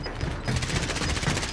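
Rapid automatic gunfire in the video game Call of Duty: Modern Warfare, during a battle royale match: after a brief quieter lead-in, a fast, unbroken string of shots rattles on steadily to the end.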